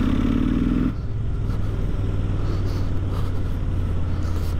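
A Kawasaki Z motorcycle riding behind the camera on a road, heard as a steady low engine rumble blended with the rider's own motorcycle drone and wind noise.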